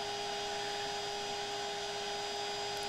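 Vacuum pulling bald-faced hornets from a nest, a loud steady motor whine with tonal hum running unbroken throughout, no voices.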